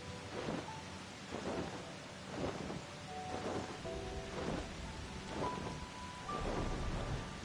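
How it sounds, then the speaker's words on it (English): A night thunderstorm in Final Fantasy XIV: steady rain hisses throughout while low rumbles of thunder roll in repeatedly, fairly quiet overall and with no talking. "Experience a night storm."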